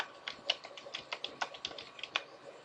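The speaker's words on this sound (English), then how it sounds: "Let me see if I can type that so you can read it." Close, quiet tapping on a computer keyboard, a quick irregular run of about a dozen light key clicks with no talking over them.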